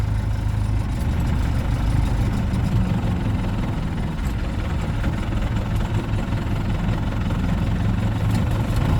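An MTZ-82 tractor working with a homemade mounted grader runs as a loud, steady low engine drone with constant vibration throughout, with no voices over it.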